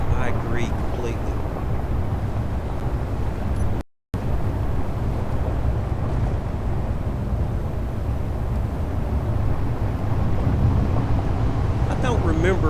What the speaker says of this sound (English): I don't remember the alien planet being this stormy.